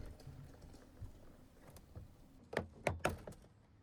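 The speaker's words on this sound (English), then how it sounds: "gently pull it away from the door and lift up to unhook the card" Interior door card on a BMW 3-Series being pried loose and lifted off the windowsill, a few sharp plastic clicks and snaps close by near the end, after quieter rustling handling noise.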